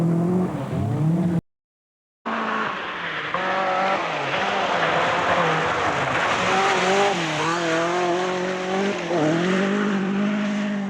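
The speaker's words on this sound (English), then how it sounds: "The British-built Peugeot, its 3rd fastest on Dalby, and still in 4th place, driven by Finnish driver Michael Sundström." Peugeot 205 T16 Group B rally car on a fast forest stage, its engine loud and close as it rises and falls through gear changes, with brief tire scrabble and a short dropout early on.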